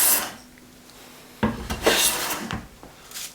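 Hand plane taking a test cut on wood, with a quiet rasping stroke at the start and then two or three louder, close scraping shaving passes.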